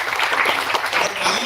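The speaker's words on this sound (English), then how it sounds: "I request you all to give a big round of applause to your teachers first." Dense crowd applause for teachers at a college event, loud and close, continuous clapping from many hands filling the whole short stretch.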